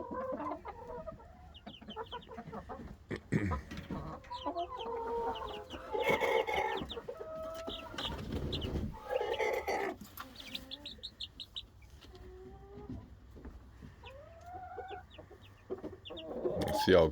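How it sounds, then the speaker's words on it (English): Three-week-old chicks and young birds, including a small Silkie and a rooster, cluck and cheep in a backyard coop on a sunny day; chirps, clucks and short calls come steadily close by, with scattered rustling and no talk. "that's a rooster."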